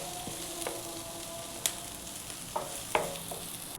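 Onions fry in a pan for gongura chutney with a faint, low sizzle. A few sharp scrapes and taps of stirring punctuate the sizzle.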